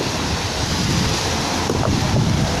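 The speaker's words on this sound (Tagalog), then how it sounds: "Maalon niya yun, maalon." Rough open sea rolling and splashing around a small fishing boat near Shoe Island, with wind buffeting the microphone in a steady, loud wash of surf throughout.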